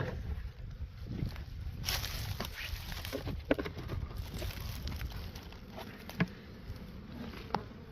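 Honey bees buzzing around beehives as they are moved in winter, a steady insect drone with scattered knocks and handling clatter close by, no talking.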